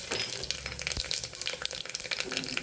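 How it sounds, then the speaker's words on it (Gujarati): Fennel seeds, whole coriander seeds and asafoetida crackle and sizzle loudly in hot oil for tempering a bottle gourd curry, a dense, continuous popping close up, with an occasional clink of utensils. "હિંગ ઉમેરી દઈશું અને આપણે શાકનો વઘાર કરી દઈશું"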